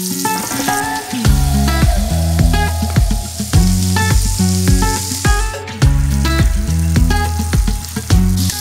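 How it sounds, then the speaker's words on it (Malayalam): Belt fish frying Kerala style in a pan of hot oil, a steady sizzle running the whole time beneath loud rhythmic background music. "ഈ കാണുന്ന പോലെ മീന് ഇതേപോലെ ഇട്ട് കൊടുക്കുകയാണ്"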